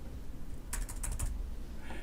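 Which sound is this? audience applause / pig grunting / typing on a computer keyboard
typing on a computer keyboard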